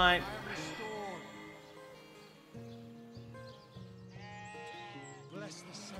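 A sheep in a video game bleats several times in a row, with wavering, drawn-out calls that rise and fall, fairly close and clear with no voice over them.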